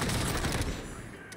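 A quick burst of rapid gunfire from Call of Duty: Warzone sounds fairly quietly and fades over about a second, with faint talk mixed in.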